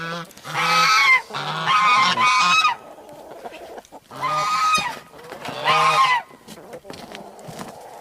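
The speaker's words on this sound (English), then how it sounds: "Do you like the geese? She's intently watching them. I think she likes the noise they make." Domestic geese honking loudly near a backyard coop with guinea fowl, two bursts of repeated nasal honks separated by a brief lull, close and dominant.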